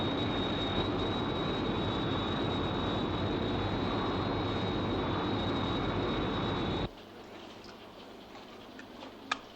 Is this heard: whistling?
no